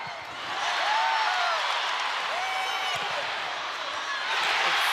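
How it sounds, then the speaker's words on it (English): Arena crowd at a women's college volleyball match between Louisville and Pittsburgh roars loudly and steadily after a long rally, with some whistles mixed in for about five seconds. "And listen to this crowd"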